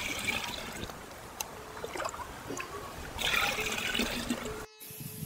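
Water trickles and splashes as ten litres are poured into a clay pot holding fresh cow dung, a continuous gurgling pour with a louder surge midway and a short break near the end.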